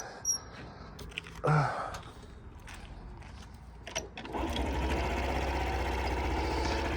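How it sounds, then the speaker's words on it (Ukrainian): A few mechanical clunks and a short whirring attempt as a 2016 Honda Super Cub 49cc fuel-injected scooter is kick-started, then the engine catches and settles into a steady idle. "Зараз заведемо його з кіка."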